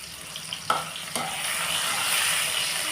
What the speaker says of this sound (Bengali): এবার এতে আমি টমেটোগুলো দিয়ে দিলাম তেলে